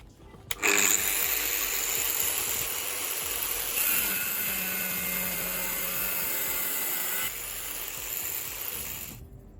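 An angle grinder cuts through a metal bar while swinging on a simple hinge setup, giving a loud, steady high-pitched whine with harsh grinding hiss that holds almost the whole time and eases slightly near the end.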